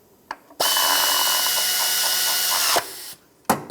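12 mm bolts being tightened on a 1997-2001 Lexus ES 300 with a power tool, a loud close whir lasting about two seconds, followed by short clicks and a brief burst.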